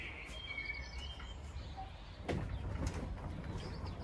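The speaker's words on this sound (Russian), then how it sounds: "Птички поют." Outdoor birdsong with pigeons cooing, faint chirps and soft calls scattered over a quiet background of low rustling ambience.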